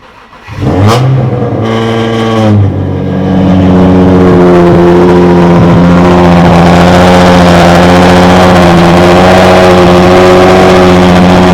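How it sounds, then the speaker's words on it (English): Turbocharged Nissan 350Z engine cranking and firing on a cold start, with a sharp rev flare that settles into a loud, steady high idle, heard close and alone. "let's get you guys a cold start right quick"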